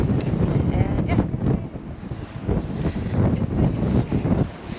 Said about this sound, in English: Look at the wind.